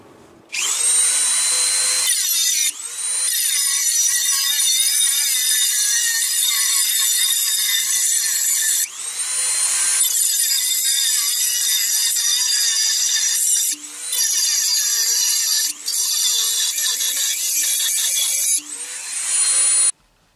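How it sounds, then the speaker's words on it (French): A Dremel rotary tool with a cut-off disc cuts sheet metal for an HO-scale model railway level crossing, making a loud, continuous high whine that dips briefly several times as the cut pauses or the load shifts. "pour la découpe, j'utilise la Dremel avec un disque à tronçonner"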